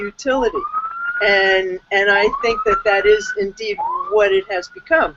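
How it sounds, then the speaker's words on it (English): A police siren wails outside in New York, rising and falling in long sweeps, underneath someone speaking steadily in the foreground. "Oh, I'm sorry about the sirens."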